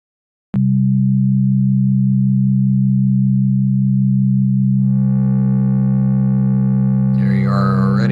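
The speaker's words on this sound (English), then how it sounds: "now let's initialize this and take a look at that on a sine wave." An ASM Hydrasynth synthesizer holds a pure, steady sine tone, loud and alone; midway, brighter overtones join the note, and near the end a wavering, shifting texture enters.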